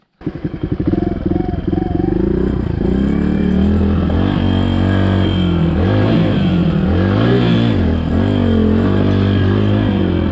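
A Suzuki DR200 dual-sport motorcycle rides off-road over rocks, its single-cylinder engine loud and close, revving up and down unevenly as the throttle shifts, with some clatter.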